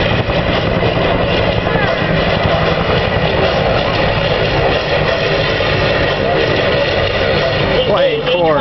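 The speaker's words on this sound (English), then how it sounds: "Cobra's performing here today are veteran aircraft with a vast history." Veteran military aircraft, Cobra helicopters, flying at an outdoor air show give a steady, loud rotor and engine drone filling the whole stretch, with voices audible over it.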